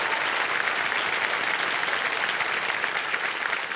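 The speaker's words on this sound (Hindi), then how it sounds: "ताली बज जाए एक बार इनके लिए" Studio audience applauding on a TV quiz show, dense, even clapping sustained throughout at steady loudness with no voices.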